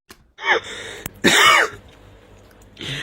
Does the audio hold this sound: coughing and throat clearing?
yes